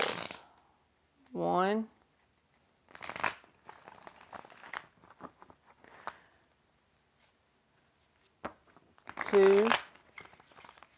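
Tarot cards are shuffled in brief rustling bursts, close by, while a voice counts between the shuffles.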